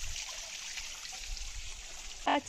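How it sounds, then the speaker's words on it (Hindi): Cold water runs steadily from a stream spout at a temple in Pithoragarh, giving a constant soft rushing trickle with no talking. "यहाँ पे है पानी का धारा और यहाँ पे बहुत ठंडा ठंडा सा पानी आता है।"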